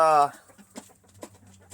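Chicks and chickens cluck in a short burst that starts loud and harmonic, then fades into softer, scattered peeps and clucks over a low background hum.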